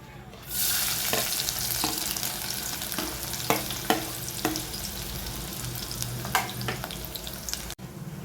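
Chopped onion drops into hot oil already seasoned with cumin, two cloves and two black peppercorns, bursting into a loud, steady sizzle with a few sharp stirring clicks and spatters, close by and without talk.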